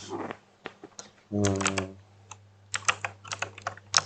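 Linux commands being typed on a computer keyboard: scattered individual keystrokes and short bursts of clicks, close and fairly quiet, with a brief hum partway through and no speech.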